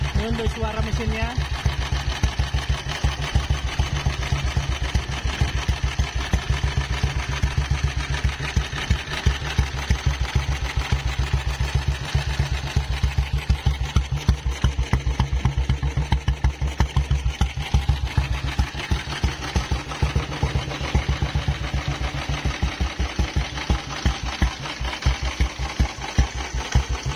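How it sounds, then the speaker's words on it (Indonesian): A 1952 BSA 350cc vintage motorcycle engine idles steadily with a rapid, even thumping rhythm, loud and close throughout. "Ini untuk suara mesinnya."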